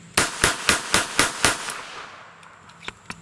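Six rapid, evenly spaced shots from a Jennings Bryco pistol crack out close and loud, then trail into a few faint clicks and small knocks as the firing stops.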